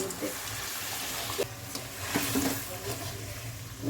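Fish and onion slices tipped into a pan of sea-fish curry for a sour-spicy gravy, crackling and sizzling steadily with brief stirring scrapes, close and moderately loud, no talk.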